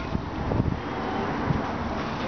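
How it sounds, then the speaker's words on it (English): Steady outdoor wind blowing against the microphone while a kite is flown, a continuous broadband rush with brief low gusts and buffets, no voices. "You got a good wind."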